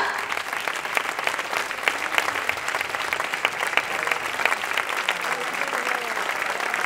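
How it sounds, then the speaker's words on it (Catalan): Steady applause from a large theatre audience fills the space, dense clapping continuing evenly without a break for several seconds. "I anem a regalar-los el nostre agraïment en forma d'aplaudiment una volta més."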